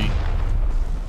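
A grenade explodes in the shooter game Rising Storm 2, a deep, rumbling low boom that fills the short moment, loud and sustained with no talking.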